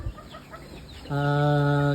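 A feather-footed chicken gives a sustained, loud clucking call near the microphone after a second of quiet background noise.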